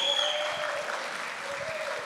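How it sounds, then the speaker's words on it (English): Audience applause at a church camp gathering, a brief, steady wash of clapping heard at a moderate distance, with a faint tonal hum running beneath it. "I'd like to give her a little round of applause."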